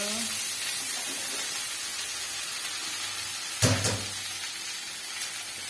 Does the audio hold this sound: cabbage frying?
yes